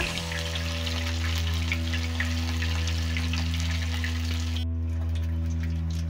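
Fish fillets coated in masala frying in clear hot oil in a pan, a steady close sizzle with a constant hum underneath, easing slightly near the end.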